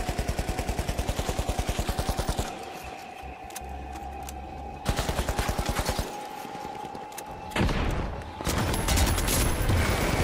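An enemy fires in a competitive video game, with rapid automatic bursts of loud, sharp gunshots that stop and start in several volleys, the last one heavier and continuous.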